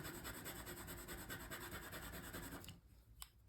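A coloured pencil rubs colour onto paper in a steady, close scratchy rasp of quick back-and-forth strokes that stops near the end, leaving a few faint taps.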